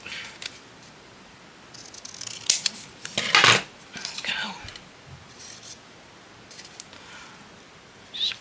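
Scissors cutting fabric scraps in a quiet room, a few short crisp snips clustered in the middle with faint rustling around them, while a person speaks softly at times.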